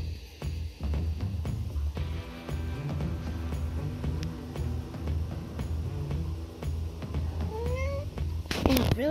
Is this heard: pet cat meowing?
yes